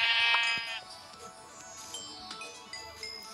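Minecraft sheep bleat in a game, with a loud wavering bleat at the start and then softer game sounds and clicks.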